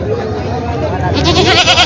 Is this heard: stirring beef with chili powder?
no